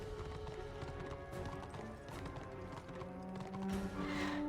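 Horse hooves clip-clop at a steady walking pace in the online game Warhammer Online, faint and mixed under a hum of ambient game sound.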